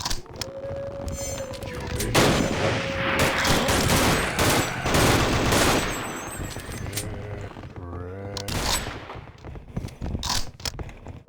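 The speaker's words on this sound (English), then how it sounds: "Everybody knows a metal lock can survive 2 sniper shots." Sniper rifle shots strike a metal lock in Sven Co-op, heard as loud cracks among a busy stretch of game noise, clanks and scraping, with sharp bursts mid-clip and another near the end.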